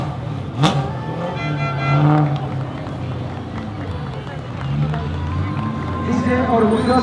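A Dakar 2017 rally car pulls away toward the parc fermé, its engine revving and accelerating at mid distance beneath steady crowd noise and nearby talking voices.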